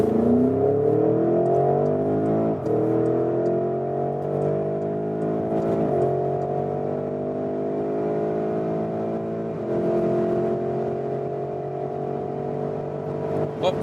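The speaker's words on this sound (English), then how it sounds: "wow, what an impressive acceleration and great sound as well from this 4-liter V8 bi-turbo" A 2021 Porsche Cayenne GTS Coupé with a 4-liter twin-turbo V8 accelerates hard from a rolling start. The loud engine tone climbs steadily, broken by several quick gear shifts, with no talking.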